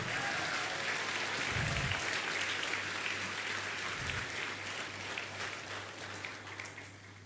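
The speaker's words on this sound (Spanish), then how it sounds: "¿Cuánto aplauden al Señor?" A church congregation applauds during a sermon, a broad sustained roar of clapping from many people with a low hum running underneath and a couple of dull thuds, tapering slightly near the end.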